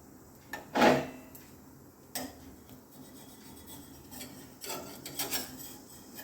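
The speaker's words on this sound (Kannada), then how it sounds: "ಉರಿ ದೊಡ್ಡದು ಮಾಡಿಕೊಂಡು ಮುಚ್ಚಲು ತೆಗಿತಾ ಇದ್ದೇನೆ" A lid lifted off a cooking pan on a high flame while frying jackfruit chips, giving one sharp metallic clank followed by a few softer knocks and scrapes in a quiet kitchen.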